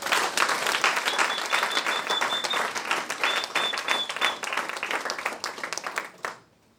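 A church congregation applauds and claps steadily for several seconds, a dense sustained wash of hands that stops abruptly at the end.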